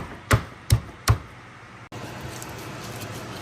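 Shallot being mashed with habanero for a marinade for fried porgies: three sharp, heavy pounding thuds about half a second apart, then a steady low background with no further strikes.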